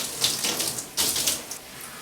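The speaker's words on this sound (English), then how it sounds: "let's go ahead and rinse the conditioner out of our hair" Water runs from a tap while conditioner is rinsed out of hair, a close, hissing splash that rises and falls in uneven surges as the stream is disturbed.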